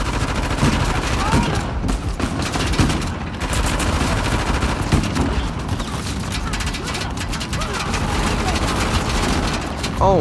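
Gunfire aimed at the player in the video game Uncharted: The Lost Legacy, sustained bursts of automatic weapon fire with scattered booming impacts, loud and close for the whole stretch, with voices mixed in underneath.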